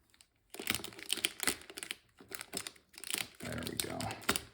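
Cardboard and plastic packaging on a GameBall trackball box being cut and peeled away, with close crinkling, scraping and tearing in bursts separated by short pauses, while a person talks.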